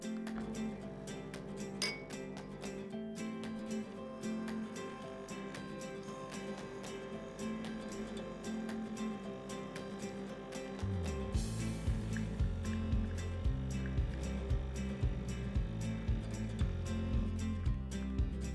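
De'Longhi La Specialista EC9335.M espresso machine brewing espresso: a quiet mechanical hum and buzz that steps up into a louder, pulsing pump drone partway through.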